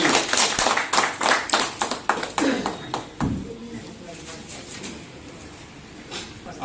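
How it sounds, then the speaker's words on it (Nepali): Audience at a ceremony honouring voluntary blood donors gives a burst of applause, loud at first then fading to scattered claps and quiet by the end. "अलिकति ताली बजाइदिनु होला है।"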